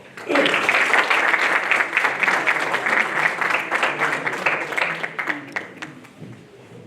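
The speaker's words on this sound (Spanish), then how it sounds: "Le damos un fuerte aplauso al doctor Ponce" Seminar audience on urban trees claps to welcome a presenting doctor, a strong burst of applause that rises sharply, holds steady for several seconds, then tapers off.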